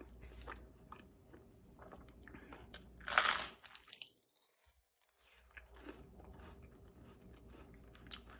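Someone bites and chews toast spread with pumpkin pie spice butter, with soft crunchy chewing, a sharp loud crunch around the middle, then a near-silent pause before quieter munching resumes.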